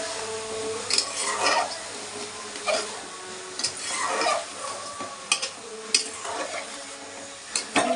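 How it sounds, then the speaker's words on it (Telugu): Brinjal curry with salt and turmeric being stirred in a pan, a utensil scraping and clinking against the metal in irregular bursts over a soft background sizzle, close and fairly quiet, no talking. "పసుపు వేసాను, కలుపుతున్నాను అన్నమాట."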